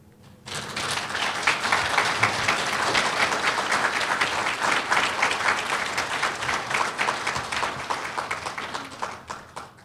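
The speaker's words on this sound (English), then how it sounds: "Dr. George Nicholas, round of applause, please." Audience applause breaks out after a lecture, rising quickly into steady, dense clapping from a crowd and tapering near the end.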